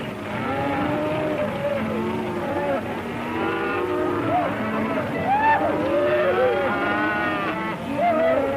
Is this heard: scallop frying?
no